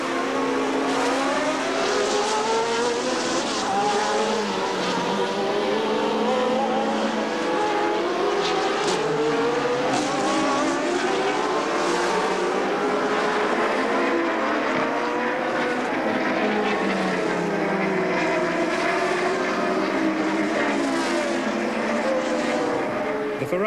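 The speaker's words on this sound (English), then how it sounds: "For several laps, the racing cars were racing." Formula 1 racing cars of the 1982 season, turbo and Cosworth engines, racing together, their loud high-revving engine notes rising and falling continuously as several cars pass in a dense, overlapping roar.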